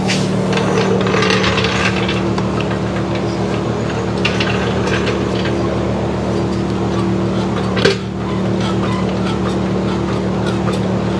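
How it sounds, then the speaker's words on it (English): Mechanical clicking and a steady low hum run through the whole stretch as a jack works under a 1949 Willys truck, with a sharp clunk near the end; no talking. "Slide this jack in there."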